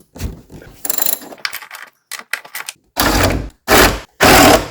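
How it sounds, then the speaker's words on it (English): Several short, sharp bursts of ratcheting mechanical clicks come up close as a 12mm top strut nut is removed from a Toyota Prius front strut, separated by quiet gaps. "Okay, now I will hold this strut with one hand and I will remove that last nut"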